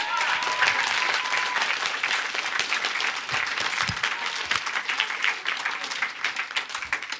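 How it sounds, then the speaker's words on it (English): Audience applause for a speaker at a hacker conference talk, a dense steady patter of many hands clapping that carries on throughout at a fairly loud level, with faint voices mixed underneath. "Big round of applause for Johannes."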